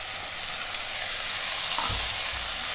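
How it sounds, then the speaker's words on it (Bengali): Onion, garlic paste and chopped tomato fry in a pan with a steady loud sizzle, scraped and stirred now and then, with no talk. "আবারও বারবার নাড়াচাড়া করে আমি সুন্দর করে কষিয়ে নেব"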